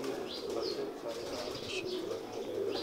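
Pigeons coo softly and repeatedly through steady ambient noise, with a few brief higher chirps scattered across the stretch; the birds sound close and fairly continuous rather than distinct single calls.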